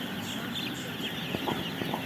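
Broiler chicks clucking in a poultry house holding about 7,000 birds, a faint constant murmur of many small birds with a few clearer peeps near the end.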